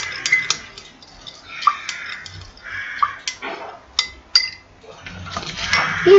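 A utensil stirs melted white soap base scented with rose fragrance, knocking and clinking against the container in scattered light taps with soft scraping between them, close and fairly quiet.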